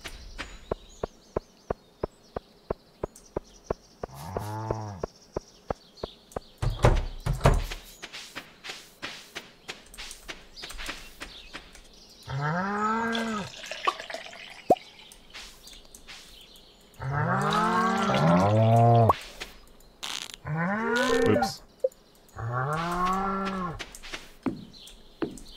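Cows low repeatedly in the farming video game Stardew Valley while being milked: several long, drawn-out moos in bursts, after a run of quick, regular clicking interface sounds, with no talk.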